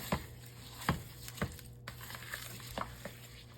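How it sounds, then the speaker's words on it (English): Cajun-seasoned food stirred in a pan, with a few scraping strokes of a utensil over a low background hum, fairly quiet and close. "I'm gonna stir all that together"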